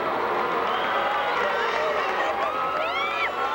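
Crowd cheering at a 1997 Battle of the Sexes figure skating competition during Kurt Browning's program: a steady, loud roar of many voices with shrill whistles rising over it, sustained throughout.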